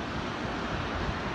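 The Alaknanda river near Badrinath and Mana village in Uttarakhand rushes past in a loud, steady roar of flowing water with no voices.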